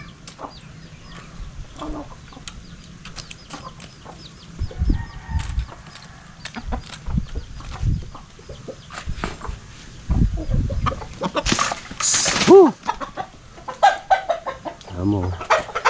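Chickens cluck repeatedly nearby on a provincial farm, with a large dominant rooster among them; a few louder squawks and bursts of activity break through the steady farmyard clucking.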